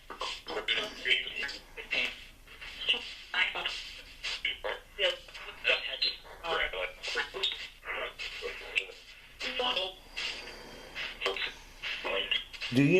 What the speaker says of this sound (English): they call it Spirit Box. It goes through a bunch of channels